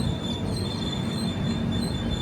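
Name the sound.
Kirandul Passenger train arriving at Marripalem station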